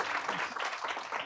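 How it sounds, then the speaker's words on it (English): Audience applause at a panel event on the U.S. Olympic movement, a brief dense burst of many hands clapping that stays steady and fairly loud throughout. "Please give them a round of applause."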